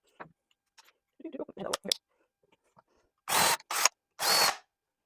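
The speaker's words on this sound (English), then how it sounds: "We got a drill hole." A power drill bores a hole through a lamp base to fit a switch, giving three short, loud bursts of whirring near the end, after some quiet handling clicks and shuffling.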